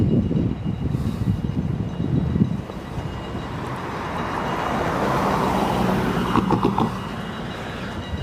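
Freight train 502 rolls past a road crossing with a loud, broad rumble and rattle of wagons, steady and near throughout.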